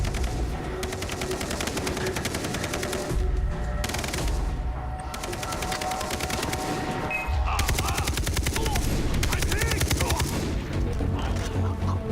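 Sustained gunfire from a Far Cry 3 firefight in a minefield area, with dense, continuous bursts of shots and booms filling the clip, briefly dipping before resuming at full intensity.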